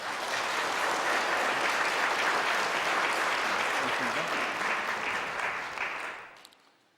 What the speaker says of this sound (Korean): 여러분들 따뜻한 환영의 박수 부탁드립니다